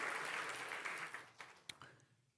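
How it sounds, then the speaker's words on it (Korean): Congregation applause at a Sunday church service, a soft broad patter of many hands that thins out and fades over a couple of seconds, with a few separate claps near the end. "다시 한번 그럼 박수로 수고하셨습니다"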